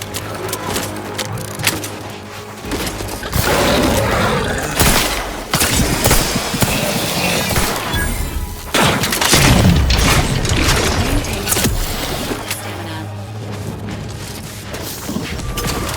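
Gunfire in the video game Outer Worlds 2, dense loud bursts of automatic fire and heavy booms in rapid succession, with crashes and mechanical clatter between volleys.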